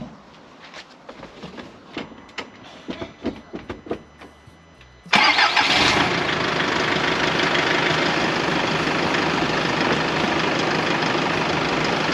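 A diesel engine in a Japanese donor truck, dormant for weeks, cranks with choppy clattering and then catches, settling into a loud, steady idle that continues to the end.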